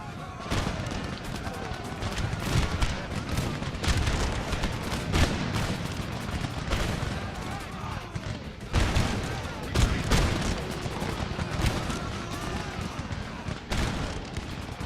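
Massed musket volleys crackle across a battlefield in Empire: Total War with Darthmod, Spanish line infantry firing in dense, overlapping bursts that swell and fade repeatedly, loud and continuous over about fifteen seconds.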